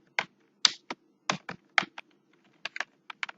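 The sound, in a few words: typing a category name on a computer keyboard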